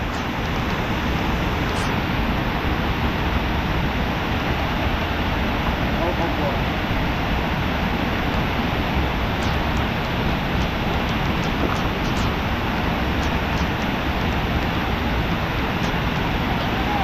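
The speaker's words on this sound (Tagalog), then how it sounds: "Ang lakas ng ulan." Heavy rain pours down during a freshwater fishing trip, a loud unbroken hiss and roar that fills the whole stretch without letting up.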